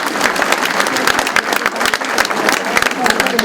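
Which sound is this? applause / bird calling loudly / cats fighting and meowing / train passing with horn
applause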